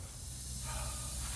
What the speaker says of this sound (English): if you want to go spray it in there, you can take a look, Tyler.